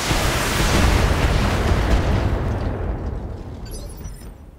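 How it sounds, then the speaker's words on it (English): A full salvo from mech weapons in the video game Battletech: a loud, broad roaring blast that holds for a couple of seconds and then slowly fades, with no talk. "Fire in a full salvo."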